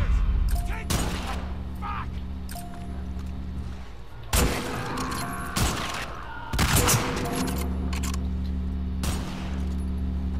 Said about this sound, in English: Alright, so we're shooting him.